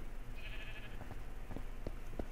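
A Minecraft sheep bleats once, a short wavering nasal cry near the start, over steady background hiss and a few soft game clicks.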